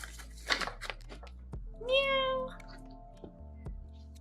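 A pet cat outdoors near a door gives a drawn-out, clear meow close by, preceded by soft human vocal sounds and followed by quieter shuffling noises.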